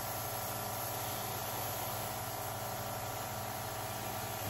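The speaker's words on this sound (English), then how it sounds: "This is spraying really, really, really light. This is not putting on a lot of paint." Light spray paint misting onto a custom Air Jordan Travis Scott 1 High sneaker, a continuous close hiss with an underlying hum, steady and unbroken for several seconds with no voices.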